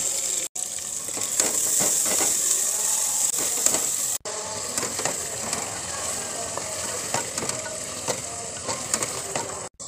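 Chicken fries in a masala base in a pan, giving a steady, loud, close sizzle and bubbling hiss that runs throughout with only two brief breaks.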